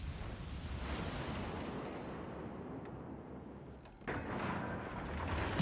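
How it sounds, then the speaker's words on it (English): A warship's main guns fire a salvo in World of Warships: Legends, a heavy rumbling blast that swells through the battle noise, followed by a second sharp boom near the end. "I'll give him a salvo, and then of course the battleship will too."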